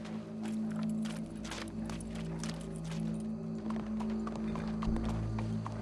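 Horse hooves clip-clop at a steady walking rhythm in Red Dead Redemption 2, close and clear over a low, continuous ambient drone.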